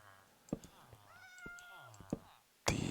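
A Minecraft cat meows several times in short, nasal calls, close and fairly clear, with soft clicks and a loud thump at the end.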